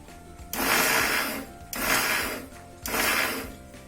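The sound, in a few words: mixie grinder coarse grinding in medium jar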